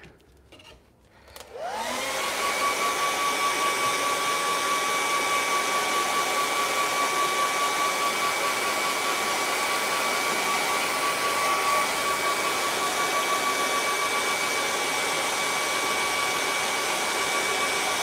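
A hair dryer switches on after a brief rustle and blows steadily for the rest of the time, drying paint, with a loud continuous whoosh and a high whine, no talking.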